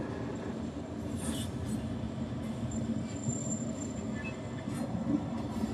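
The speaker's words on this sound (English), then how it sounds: "And of course, there's like a super loud train." A very loud train passes close by, a steady rumbling roar of rail cars and wheels with occasional high metallic squeals, continuous for the whole stretch.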